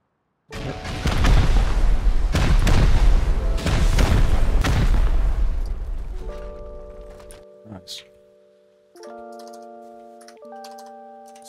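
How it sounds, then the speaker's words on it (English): Rocket explosions boom repeatedly while raiding a base in the video game Rust, a series of loud heavy blasts for several seconds, followed by quieter in-game tones and clicks. "we would use the rockets that we got in order to continue raiding the base that we didn't finish"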